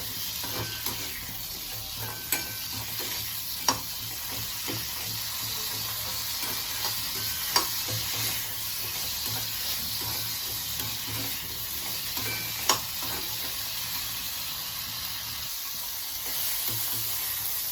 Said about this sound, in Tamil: அதோட ஒரே ஒரு தக்காளி பழம் இதையும் சேர்த்து நல்லா கொஞ்சம் வதக்கிக்கலாம்